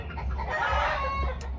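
Chickens cluck and a rooster crows loudly nearby, a dense burst of farmyard fowl calls.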